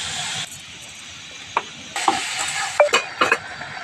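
Papaya pieces frying with spices, ginger paste and cardamom in a pan for a village-style papaya chutney, a soft steady sizzle broken by a few sharp scrapes and clinks of a spoon stirring in the pan.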